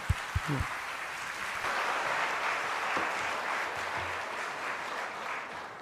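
A church congregation at a Sunday worship service applauds in glory to the Lord, with a few sharp claps at first that swell into steady, full applause lasting several seconds.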